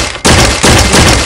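Weapon fire in a video game comes as two loud, dense bursts of rapid shots back to back, close and filling the moment with no talk over it.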